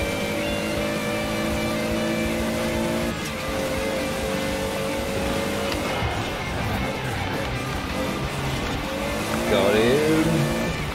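Toyota Supra engine in the Forza Horizon 4 racing game, droning steadily through the whole run with shifting pitch as it revs, a few tire squeals near the end, and a voice talking over it.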